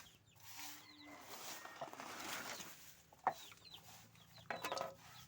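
Faint chicks and chickens clucking and peeping at a farm, scattered short calls with a few sharper cries, quiet and somewhat distant with no speech.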